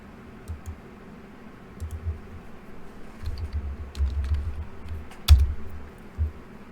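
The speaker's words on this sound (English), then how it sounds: "I bet the typing is really loud." Typing on a computer keyboard, heard as soft scattered bursts of key clicks in short clusters against quiet room noise, with a sharper click near the end.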